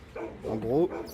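A dog gives a short whining yelp under a man's speech indoors, brief and fairly close, the voice and the yip overlapping.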